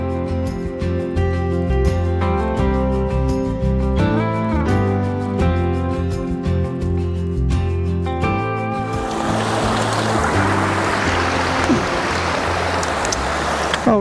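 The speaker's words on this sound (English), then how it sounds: "Got a pretty special wee water fall." Music plays at first, then a small waterfall takes over as a loud, steady rush of falling water close by for the last few seconds.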